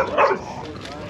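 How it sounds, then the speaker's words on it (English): A couple of dogs bark sharply outdoors at a Florida car show, a quick close yap over mild background noise and a talking voice. "Just a couple of dogs out here."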